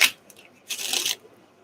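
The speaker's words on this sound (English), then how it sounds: "I got the urge to roll my number dice here" Number dice rolling and rattling on a surface, a short clatter at the start and a longer, louder rolling burst in the middle, with no speech.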